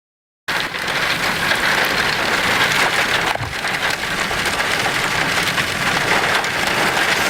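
Heavy rain pours steadily during a storm chase near Bowdle, South Dakota, a loud, dense hiss that starts suddenly and continues without a break, with one brief low rumble partway through.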